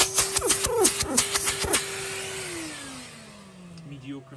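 A Numatic Henry vacuum cleaner runs close by with a steady motor whine, then winds down with falling pitch as it switches off. Quick rattling and handling knocks come first.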